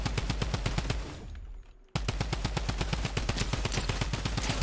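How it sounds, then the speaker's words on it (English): Rapid automatic fire from the drum gun in the video game Fortnite, loud bursts of evenly spaced shots that pause briefly, then resume in a steady rattling stream. "The new drum gun."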